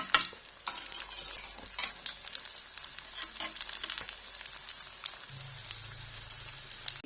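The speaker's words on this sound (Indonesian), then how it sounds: "Ini pisang goreng itu yang tinggal dipanasi." Fried bananas reheat in a pan with a steady, close crackling sizzle, punctuated by scraping stirs and clinks, while a low hum joins near the end.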